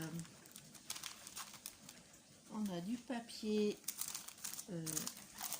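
Sheets of A4 paper crinkle and rustle nearby in short bursts as they are handled, mixed with a few brief, tonal, voice-like sounds.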